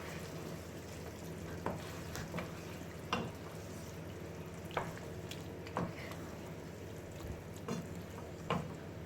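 Cauliflower, broccoli and potato vegetable curry stirred in a pan, with a soft ongoing sizzle broken by a series of sharp scraping and clinking strokes of the spoon, roughly one per second, and no talking.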